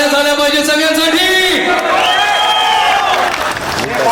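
At a film teaser launch event, an indoor audience cheers and shouts loudly with some clapping mixed in, and a crowd roar fills the whole brief moment close and dense.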